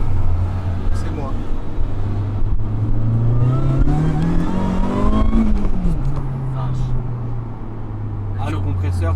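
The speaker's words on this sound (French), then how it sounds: "Ah, le compresseur, C'est incroyable. c'est différent du turbo." A supercharged car engine revs up and winds down, its whine rising to a peak and falling back, loud and close, with people talking over it.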